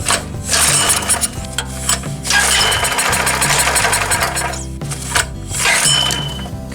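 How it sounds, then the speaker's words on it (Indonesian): A Daito 2.4 kVA portable generator engine turns over repeatedly while trying to start, loud and close, a rapid mechanical chugging and knocking that surges and falters in uneven bursts, with no voices. "tadi sudah bisa kita dengar sama-sama ada tanda-tanda mesin ini untuk hidup"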